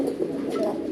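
Native breed desi pigeons coo softly close by, a brief low rolling coo repeated in quick pulses against a quiet background.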